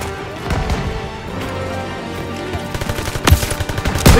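Rapid machine-gun fire and scattered shots from a Call of Duty: WW2 stronghold battle in Marigny, France, dense and loud, building into heavier bursts toward the end amid battlefield noise.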